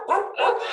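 A dog barks twice in close succession, loud and near, with sharp harmonic yelps during an online committee meeting, with no talk over it.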